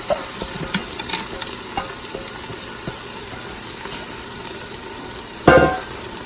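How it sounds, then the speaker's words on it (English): Oil sizzles steadily in an Instant Pot with faint stirring clicks. Near the end, soaked chana dal goes in with a sudden wet splash that surges into louder frying, and no one speaks. "So now I'm gonna go ahead and add my dals in there."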